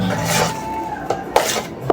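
Homemade cake batter stirred in a bowl, a close scraping and rasping of utensil against the bowl in short strokes with a couple of sharper knocks, quiet talk barely present.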